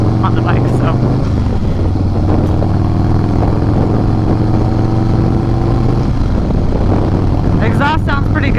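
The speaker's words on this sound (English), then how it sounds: "Exhaust sounds pretty good on the road. It's not too loud, but it's definitely provides you with a voice on the road." A 2017 Harley-Davidson Softail Slim S with Screamin' Eagle exhaust cruising on the road, a loud, steady low engine drone rising and falling with throttle throughout, with no talk over it.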